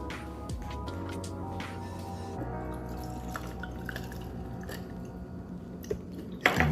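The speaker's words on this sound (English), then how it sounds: "I'm gonna pour about 3 ounces here" Citrus Ciroc vodka, about three ounces, is poured for a summer cocktail, a soft trickling and dripping of liquid close by, quiet and steady, ending with a small clink.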